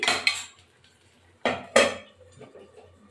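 A metal lid goes onto a cooking pot of thin egg curry: two pairs of sharp clanks a second apart, then faint rattles as it settles, with no voices.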